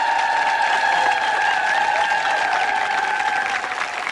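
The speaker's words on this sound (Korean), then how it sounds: "여러분 축하의 박수 한번 주십시오." Studio audience at a live TV quiz show applauds a contestant, steady dense clapping throughout, loud and sustained, tapering slightly at the end, with a faint tonal hum beneath.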